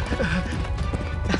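Hooves clip-clop in an animated cartoon, a quick run of light hoof beats heard fairly close under a busy soundtrack with brief vocal sounds.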